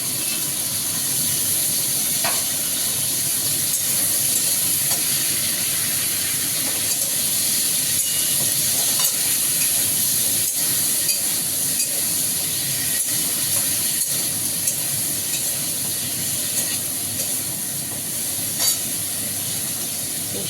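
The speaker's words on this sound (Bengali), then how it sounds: "এবার আমি এই সবজিগুলো দিয়ে দেবো।" Pumpkin, potato and long beans frying in oil give a loud, constant hissing sizzle that holds steady throughout with no talk.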